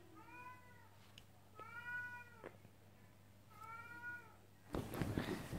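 A house cat meows three times in short, evenly spaced calls at a closed room door, fairly close and clear, followed by a brief rustling bump.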